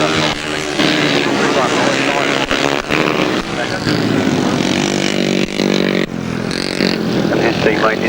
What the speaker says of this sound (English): little two-stroke thing of Lee Street there in third place, pushing hard